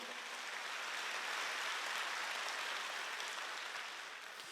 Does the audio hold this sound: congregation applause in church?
yes